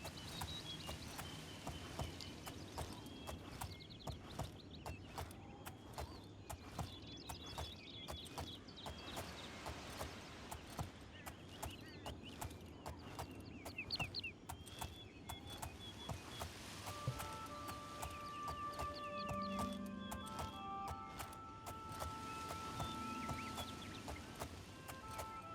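A horse is ridden at a steady pace in the Oblivion video game, its hooves clip-clopping in a fast, even rhythm for the whole stretch. Faint ambient outdoor sounds and occasional tonal game effects play underneath.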